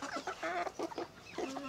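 A hen clucks in short, close bursts among five-month-old Carioca and white chickens in a backyard flock, several quick clucks in a row.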